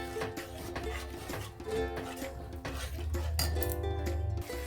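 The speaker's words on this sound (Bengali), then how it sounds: "দিয়ে একটু ভালো করে মশলাটা কষিয়ে নেব।" Spoon scrapes and metal clinks sound in a pan while spice masala for chicken ghugni is stirred and fried, faint, irregular knocks over a low background hum, no talking.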